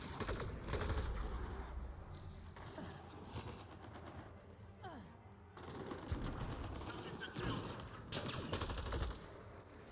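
Sniper and automatic gunfire in the video game Mass Effect: Andromeda cracks in repeated bursts and single shots, close and loud, with battle noise between volleys and brief voices underneath.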